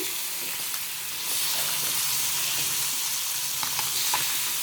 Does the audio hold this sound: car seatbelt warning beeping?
no